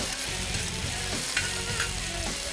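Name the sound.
onions and peppers stirred and sizzling in olive oil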